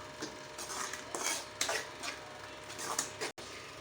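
Chopped tomatoes and spices being sautéed in a pan for a mushroom and peanut masala gravy, with steady soft sizzling broken by several scraping, stirring bursts of a utensil against the pan, close and fairly quiet.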